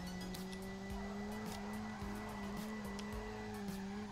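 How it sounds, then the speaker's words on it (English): A minivan drifts with nitrous in BeamNG.drive, its engine holding a steady droning note while the tires squeal and chatter repeatedly through the slide, continuous and loud with no talking. "this is the best drifting minivan I've ever drifted in this game"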